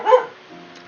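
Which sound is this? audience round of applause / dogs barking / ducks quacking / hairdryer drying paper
dogs barking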